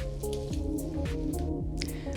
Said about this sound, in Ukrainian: Тож промиваємо рис.